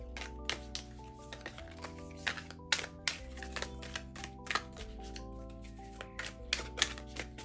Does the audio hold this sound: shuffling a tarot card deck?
yes